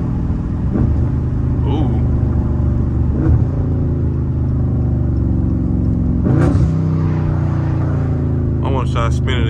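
A car revs hard and slides through turns on a rain-soaked road, engine surging in repeated bursts over a steady rumble, close and loud, with someone talking and exclaiming throughout.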